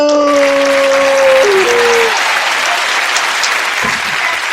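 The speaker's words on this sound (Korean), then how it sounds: "우리 다 같이 삼꾸리 위해서 박수!" Children applaud at a daycare puppet show of the Three Little Pigs, a dense, loud wash of clapping that fills the whole stretch after a few sustained tones fade out early.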